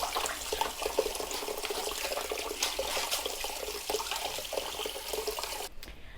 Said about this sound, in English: we're just doing that until we're happy that all those seeds have been washed clean